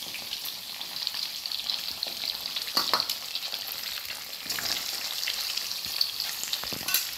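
Boiled eggs fry in hot oil with a steady, bright crackling sizzle and scattered pops and spatters, close and fairly even throughout, with nobody speaking.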